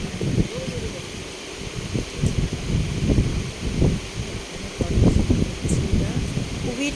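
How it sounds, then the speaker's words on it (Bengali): Cold wind gusting outdoors near tea estates in Munnar, Kerala, on a rainy day, a steady rumbling buffet with stronger gusts toward the end; faint voices can be heard beneath it. "খুবই ঠান্ডা হাওয়া এবং বৃষ্টি পড়ছিল"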